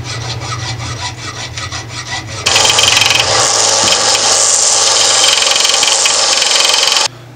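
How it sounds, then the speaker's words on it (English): A hacksaw cuts through a PVC coupler with steady back-and-forth strokes, then shifts into a louder, continuous rasping as the cut is sanded down, close and loud throughout with no talking. "Next, measure 1/2 inch from the bevel edge down and cut off with a hacksaw and sand down to a 7/16 from your cutting area."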